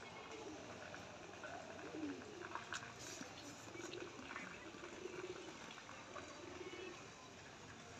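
Lal Dom pigeons coo softly among their parents and young, the low repeated calls half-buried in a steady, noisy background hiss throughout.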